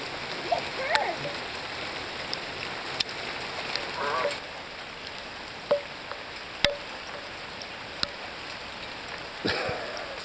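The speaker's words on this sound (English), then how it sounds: "It's hailing." Hail falling outdoors in Studio City, heard as a light, steady patter with scattered sharper impacts; voices can be heard faintly at times.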